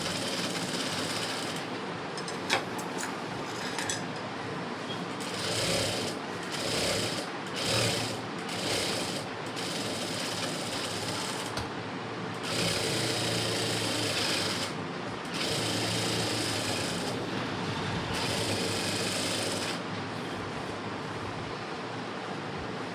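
A sewing machine stitching a seam along a blouse lining, its rapid mechanical whirr running in bursts of several seconds, separated by short pauses, loud and close with no talking.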